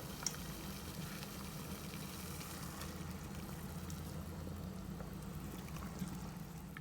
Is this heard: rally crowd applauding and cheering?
no